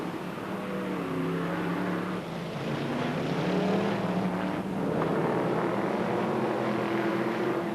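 Brisca F1 stock cars roar around the Northampton oval, a loud continuous engine drone with rising and falling pitch as cars pass close by.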